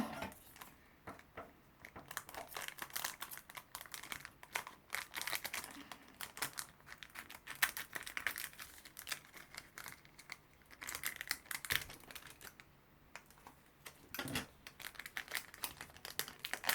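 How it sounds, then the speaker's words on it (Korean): A Pokémon Ultra Moon card booster pack is torn open, giving continuous close crinkling and crackling of foil wrapper with irregular sharp rustles throughout. Quiet and steady, with no speech. "마지막 희망인 울트라 문 뜯어서 꼭 GX 카드 나와야 돼요"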